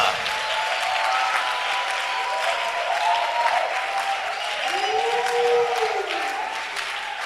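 Church congregation applauding during worship, a dense sustained roar of clapping hands filling the space, with a faint voice and some cheering mixed beneath.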